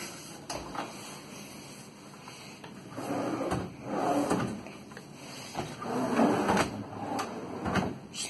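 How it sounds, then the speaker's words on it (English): Slow-closing kitchen drawers in a rental home sliding shut, several soft rumbling glides with muted bumps at the ends, heard near and without talking. "Slow sliding drawers, which is nice."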